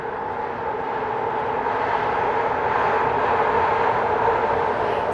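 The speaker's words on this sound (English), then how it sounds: "You just wait for the train." A train rumbles past at a steady, loud level for several seconds, a continuous broadband roar of wheels and cars with no pauses or voices over it.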